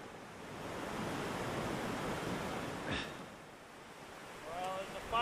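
A cold mountain river on a backcountry route along the Alexandra and Castleguard area rushes as a steady, broad roar of flowing water, with wind buffeting the microphone and a brief clatter near the end.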